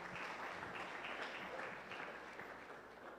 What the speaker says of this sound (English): Let's clap our hands as we welcome our next brethren.